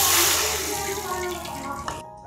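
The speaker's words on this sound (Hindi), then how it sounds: "अब इसमें पानी डाल लें" Water poured into a pan holding ghee and crushed cardamom while making sweet vermicelli, a close hissing gush that tapers off before stopping abruptly.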